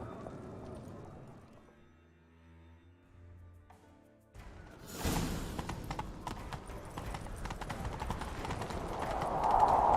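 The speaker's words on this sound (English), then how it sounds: "grab a horse, we'll chase him down." Quiet music gives way to a sudden burst of hoofbeats from a horse in The Witcher 3: Wild Hunt, a steady galloping clatter that continues loudly to the end.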